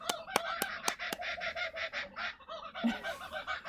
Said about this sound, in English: That's a kookaburra.